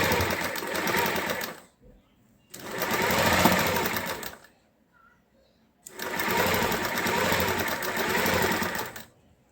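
A sewing machine stitches a lined kameez in three loud bursts of rapid mechanical whirring and needle clatter, separated by short pauses of near silence.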